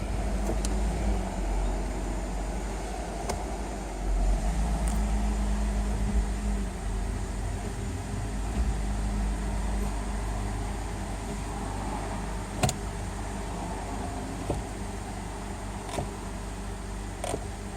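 Car with a 4L60E/4L65E automatic transmission idling steadily after a filter service as the gears are selected, a low even engine hum with faint clicks, quiet and continuous.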